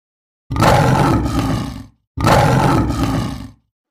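A lion gives two long, loud, deep roars close by, each lasting about a second and a half with a short pause between them.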